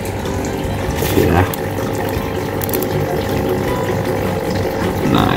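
A 25-watt aquarium water heater switched on in a turtle tank for Brazilian turtles, with water bubbling and trickling steadily throughout and a voice talking over it.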